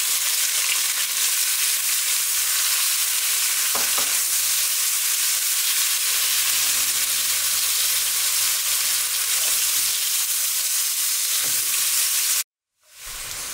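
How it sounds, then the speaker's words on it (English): Onions sizzle and crackle steadily in a hot pan, a constant frying hiss with occasional small pops, ending abruptly in a brief cut. "Now we're going to put our onions in."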